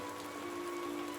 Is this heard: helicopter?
no